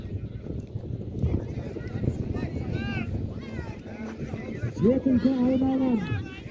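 Horses gallop with rapid clip-clop hoofbeats in a 25 km long-distance horse race in an open rural setting, under continuous excited commentary, with wind noise and a horse whinnying.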